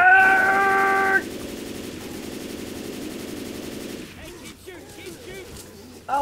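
Gunfire in the zombie shooter Left 4 Dead 2, steady rapid shots under a tonal hum that drops away after about a second. The firing thins out and grows fainter toward the end.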